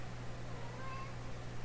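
Indoors a cat gives a brief, faint meow partway through, set against a constant low hum and room noise, with no one speaking.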